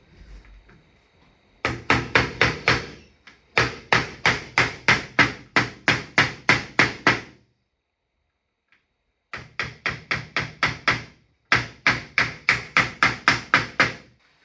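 Nails being hammered through pre-drilled holes to fix a half slate on a roof, heard as several bursts of rapid, ringing hammer blows that are close and loud, separated by short pauses, with no talking.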